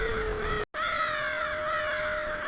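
A flock of crows gathered in a front yard caws steadily and harshly, the calls running on almost without a break apart from one very short gap.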